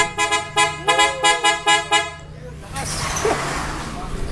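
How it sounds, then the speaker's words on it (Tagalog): A PIAA super bass sports horn rated 112 decibels at 300/400 Hz, fitted to a Toyota Fortuner, sounds eight short, loud, rhythmic honks in quick succession, followed by rumbling road and wind noise with voices talking. "para marinig natin kung gaano kalupit ang Pia horn"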